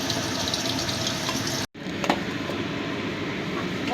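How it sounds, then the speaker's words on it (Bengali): Giant freshwater prawns sizzle in hot oil in a pan for coconut prawn curry, a steady broadband hiss of frying throughout with a brief cut near the middle. "ওই এক এক দিক 30 সেকেন্ড করে ভেজে নেব।"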